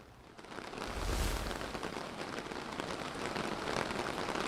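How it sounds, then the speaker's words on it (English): Heavy rain pours down steadily in a dense, hissing roar, loud and continuous with no voices, during flooding in Kerrville. "with the rain coming down so hard"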